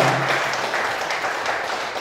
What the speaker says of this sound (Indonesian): Kita langsung beri tepuk tangannya untuk Bapak Aziz Sigit Pramojo